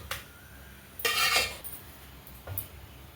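Cooked spinach greens scooped into a pot, with a few close metallic scrapes and clinks of a utensil against the vessel, one longer scrape in the middle and a brief clink near the end.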